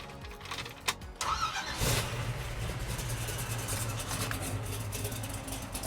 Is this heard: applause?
no